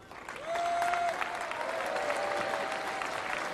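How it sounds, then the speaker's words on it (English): Tennis crowd at Roland Garros 2012 applauding a first-round player, a sustained wash of clapping from the stands with a tonal whistle-like sound briefly over it early on. "a big round of applause for him"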